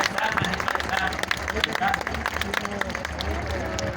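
An audience applauds steadily throughout, a dense wash of clapping with crowd noise blended in, at a formal public address.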